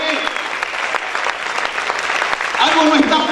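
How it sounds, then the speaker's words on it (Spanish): A church congregation claps loudly and steadily in worship, the dense applause swelling near the end as a voice and crowd sounds rise over it. "Vamos a aplaudir fuerte al Señor."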